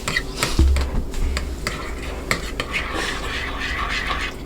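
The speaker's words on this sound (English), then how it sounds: "Okay, so now we're gonna be mixing again." Shea butter being mixed in a bowl, a continuous dense scraping and stirring of utensil against bowl with scattered clinks, held at close range throughout.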